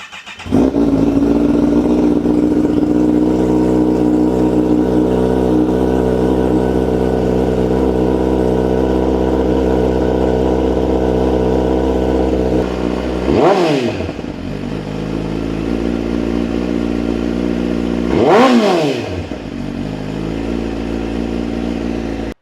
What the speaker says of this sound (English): let's give her a sound clip